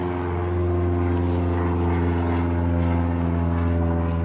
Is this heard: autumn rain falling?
no